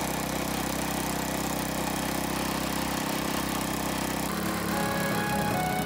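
A restored Honda Cub 90 motorcycle engine runs at a steady idle with an even mechanical drone, close and continuous throughout, its tone shifting slightly toward the end.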